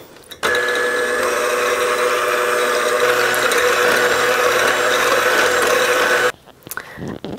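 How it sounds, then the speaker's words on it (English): An electric hand mixer whips egg whites on medium speed for macarons, a steady loud whirring drone with a gritty rattle that runs unbroken for about six seconds before stopping. "I'm going to mix these on medium speed until they are really frothy and starting to hold soft peaks"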